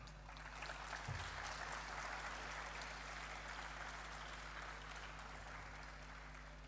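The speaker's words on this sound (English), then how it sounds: "please clap for yourself." Contestants at the Robofest Gujarat robotics competition grand finale clap for themselves, a dense, even, faint wash of applause sustained for several seconds over a low electrical hum.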